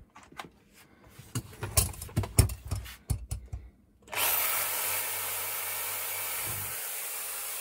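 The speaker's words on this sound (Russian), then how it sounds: "Сейчас обе пилы включу." Tool handling and clatter, then two Makita reciprocating saws, a JR3060T and a JR3070CT, start together and run with a continuous loud buzzing drone.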